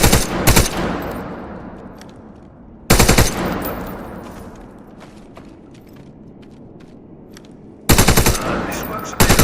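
Loud bursts of gunfire from the video game Wardogs aimed at the edge of a container: three heavy volleys, near and sharp, each followed by ringing decay and scattered clinks in between.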